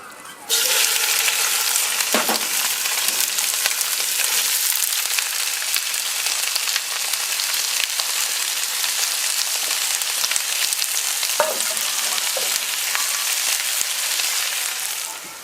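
Lamb and onions fry in olive oil in a Dutch oven, starting with a sudden loud burst of hissing sizzle that holds steady and close for the whole stretch, with a few faint knocks of stirring.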